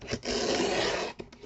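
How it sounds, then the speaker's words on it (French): Steady scissor cutting through paper, a continuous scraping rasp with a brief pause before the blades resume, close and fairly loud. "vous allez couper là où vous avez fait votre pli"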